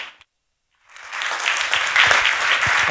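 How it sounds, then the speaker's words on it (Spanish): After a brief silence, audience applause at a presentation on the tech talent gap swells in and holds steady, a loud, dense crowd clapping that builds over the last two seconds. "un fuerte aplauso"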